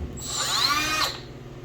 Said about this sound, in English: New Milwaukee cutoff tool.